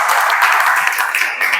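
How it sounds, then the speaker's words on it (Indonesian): Classroom applause as students clap for a group after a math presentation, a brief dense burst of clapping close by with no talking. "Oke, tepuk tangan."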